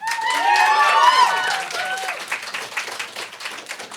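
Audience applause and cheering after a wild card winner is announced at a music contest heat, loud at first with a bright whistle or cheer, then settling into steady clapping that tapers slightly.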